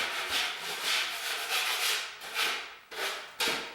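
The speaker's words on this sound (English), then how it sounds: "I just go through and I scrape off any of the loose stuff that's sticking out." Scraping loose material off a wall being prepared for sealer and face paper repair: steady dry rubbing strokes close by, with a few sharper scrapes near the end and no talking.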